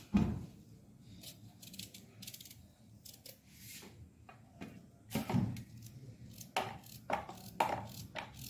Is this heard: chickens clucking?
no